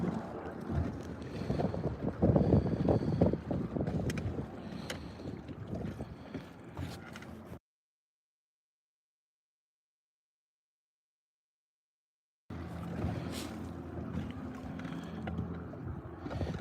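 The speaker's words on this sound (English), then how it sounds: "the wind was a little bit more than what I was thinking it would be" Strong wind buffets the microphone outdoors at a roadside ditch during a bass fishing outing, a steady rough rumble that cuts out briefly into silence and then resumes.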